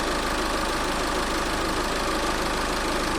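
Under the hood of a VW Passat, the air conditioning compressor runs alongside the engine, giving a steady, dense mechanical hum and rattle that stays constant throughout, close and fairly loud.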